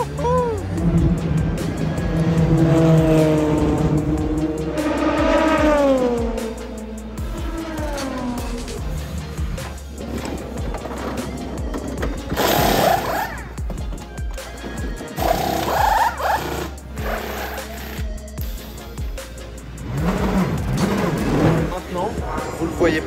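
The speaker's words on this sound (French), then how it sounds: "la Cadillac part en premier devant les deux Ferrari et la Porsche" WEC race cars pulling away at the start of the 6 Hours of Portimão, a Cadillac leading two Ferraris and a Porsche, with engines rising and falling in pitch under steady talk and a loud roar sweeping past midway.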